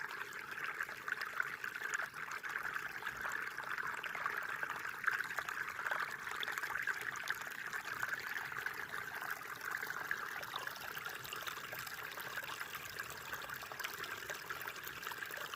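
A spring stream with snowmelt flows steadily in a continuous bright rush, like water trickling over stones, unchanging and moderately close with no talking.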